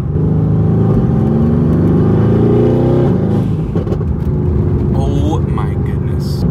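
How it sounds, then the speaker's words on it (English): A twin-turbo V8 Mercedes-AMG GT R tuned to over 800 hp roars and rumbles loudly throughout, with a steady throaty drone that shifts and crackles near the end. "the noises this twin turbo V8 makes is crazy."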